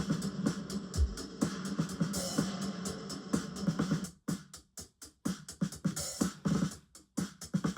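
A recorded pop drum kit plays a fast double-time pattern with crisp, tightly tuned snare hits and small hi-hats, busy and dense at first, then sparser, punchy hits toward the end.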